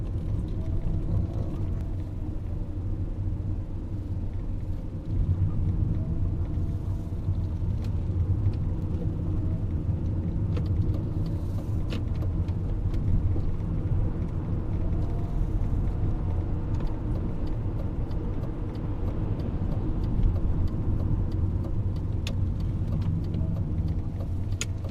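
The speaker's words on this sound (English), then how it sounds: "now I can just add throttle, car draws more power, accelerates away without any difficulty there" A BMW E39 converted to electric drive accelerates away in second gear, giving a steady low road and tire rumble heard from inside the cabin, with a faint electric whine and no engine roar.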